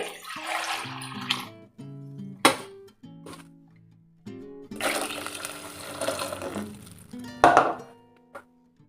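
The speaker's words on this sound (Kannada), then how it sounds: "ಈ ಮಸಾಲೆನ ಹಾಕಿ ನೀರು ಎಷ್ಟು ಬೇಕೋ ಅಷ್ಟು" Water poured into a pan of ground masala and browned onions for a fenugreek seed sambar, heard as several splashing, gurgling pours close by, separated by pauses and light metallic clinks.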